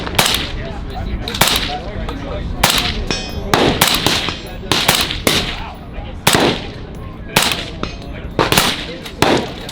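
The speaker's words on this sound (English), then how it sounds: "All I hear is the other people shooting around me." Gunfire from other shooters at an outdoor shooting range: sharp, loud reports in irregular bursts and single shots, some rapid strings like mag dumps, with a few nearer, heavier cracks.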